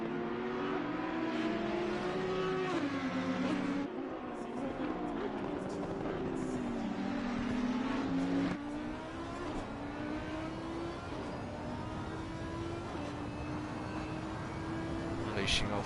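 A race car with over 500 horsepower revs and shifts gears in a video game endurance race at Mount Panorama, with engine pitch rising and dropping repeatedly, loud and continuous, while a commentator talks over it.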